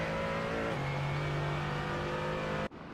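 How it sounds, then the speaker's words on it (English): GR86 and GT4 race cars revving hard on track while closing on a slower lap car, engine tones steady then shifting down in pitch, loud and continuous before cutting off abruptly, no voices. "Oh, they're quickly approaching a lap car."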